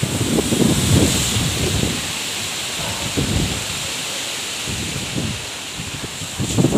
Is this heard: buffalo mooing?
no